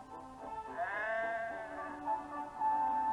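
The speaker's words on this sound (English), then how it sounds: "Some careless sheep had strayed onto the line." A sheep that has strayed onto a railway line gives a single drawn-out, wavering bleat, fairly clear and moderately close, with a shorter trailing call afterward.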